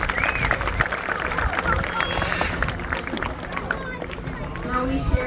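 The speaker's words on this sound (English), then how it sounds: "let's give them a big round of applause" Crowd applause at a bird show at African Lion Safari, a broad outdoor patter of many hands clapping steadily, with faint chatter and background noise mixed in and the clapping thinning slightly toward the end.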